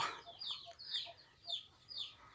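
A Burmese cross rooster clucks close by in a short run of rhythmic, throaty clucks, about five bursts spaced evenly, with no talking over them.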